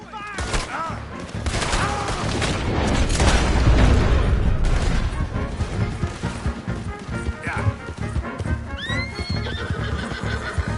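Gunfire erupts in a Red Dead Redemption 2 shootout amid neighing horses and clip-clopping hooves, with loud dense bursts and booms over a busy, continuous game soundscape and occasional voices.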